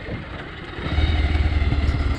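A Bajaj Pulsar motorcycle rides over a rough, stony off-road track, its engine a steady low rumble that grows louder and throbs rhythmically after the first second, with no talk.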